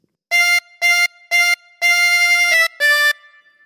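Harmonica notes from "God Save the Queen": three short drawn notes, a long sustained one sliding into a brief change, then a final short note, reedy and bright, played solo at close range.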